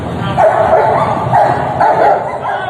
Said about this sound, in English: I love it when they send in the dog.